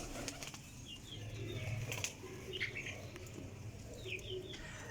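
Jira pigeon cooing among other birds, with soft chirps and a few bursts of flapping wings against a steady outdoor background; low murmuring coos run underneath throughout.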